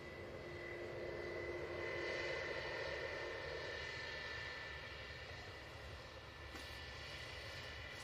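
An Aer Lingus airliner coming in from Dublin to land on runway 05, a distant, steady engine roar with a faint whine over it, fairly quiet and unbroken.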